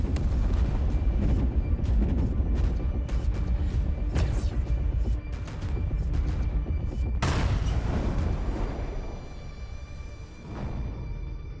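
Ship guns firing during a battle aboard a warship in Warhammer 40k Chaos Gate Daemonhunters: continuous heavy booming barrages with repeated loud blasts over a rumbling low drone, a brief lull, then another big blast and fading rumble.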